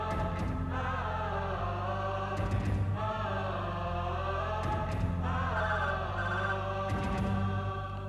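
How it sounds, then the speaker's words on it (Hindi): A telephone rings in a Hindi TV serial scene, four evenly spaced ringing bursts repeating about every two seconds over a steady background tone, with no speech. "अनीता, आकाश का फोन है, लगता बहुत गुस्से में है।"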